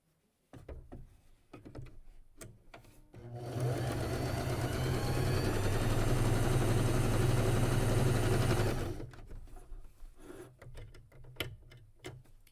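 A sewing machine stitching a row of quilt blocks for a Shoofly quilt block runs in one steady mechanical whir for about six seconds, with quieter handling and fabric shuffling before and after.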